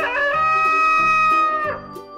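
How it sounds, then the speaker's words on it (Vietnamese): A rooster crows in one loud, sustained call close by, with no voices heard. "Gà trống."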